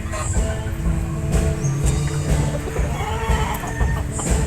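Gamefowl chickens cluck and call in a backyard, several birds close by in a busy continuous chorus, with short raised calls and faint background voices.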